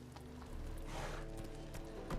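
A horse gallops in The Witcher video game, rapid rhythmic hoofbeats over a busy game soundtrack, fairly quiet and steady, with no talk.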